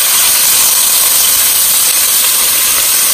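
Ginger and garlic sizzle loudly in hot oil with mustard seeds for a Gujarati khichdi and kadhi, a dense, steady frying hiss close up that fills the whole clip without pause or talk.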